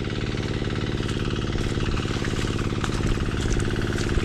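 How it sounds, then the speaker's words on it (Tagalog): An irrigation water pump engine running in a vegetable field, a loud, steady mechanical chugging with a fast, even knocking rhythm heard close up and alone. "Tapos maagang nagsindi ng makina si Papan Jimis."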